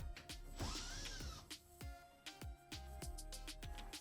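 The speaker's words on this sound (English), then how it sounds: "we're gonna start by removing the two screws in the front" Screws are backed out of the front panel of a Samsung dryer with a power drill, making short close whirring bursts with a rising whine, followed by a run of rapid clicking ratchet-like pulses.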